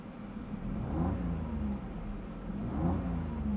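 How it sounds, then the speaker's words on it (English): A 2024 Toyota Raize 1.2 G CVT engine revs twice in a row from inside the car, each rise and fall rounded and moderate, with a steady hum between them and no talking. "let me try revving this up"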